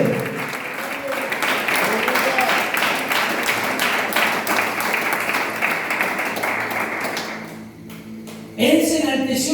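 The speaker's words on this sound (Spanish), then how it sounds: "Apláudale." A church congregation applauds steadily through a sermon, dense clapping filling the room for most of the time before fading, then a voice resumes speaking at the end.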